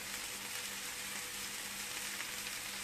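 Peppers and onions cooking in a pan with tomato paste and chopped parsley, giving a soft, even, continuous sizzle, faint and steady throughout.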